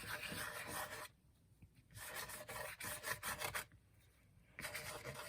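Ink glaze, Ranger Distress Glaze, being rubbed over the cover of a handmade soft-cover daily planner, giving steady close rasping strokes in two bursts separated by short quiet pauses.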